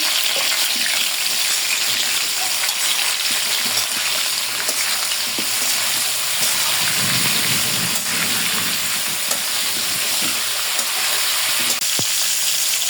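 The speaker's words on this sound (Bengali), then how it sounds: "ফুলকপিগুলো একটু ভাজিয়ে নেব" Cauliflower pieces frying in oil in a pan for a river catfish and potato curry, giving a steady, dense sizzle that runs unbroken and fairly loud throughout with no voices.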